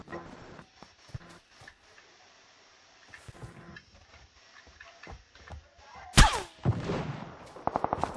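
Sporadic gunfire crackles in the online battle game PUBG Lite, with scattered faint shots giving way to a sudden loud close blast and then a quick burst of rapid clicks, among quiet game ambience.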